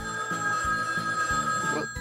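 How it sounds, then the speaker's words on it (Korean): A telephone ringing indoors, in a Minecraft role-play scene, with a steady electronic tone repeating in short regular bursts, loud and alone. "전화가 왔네."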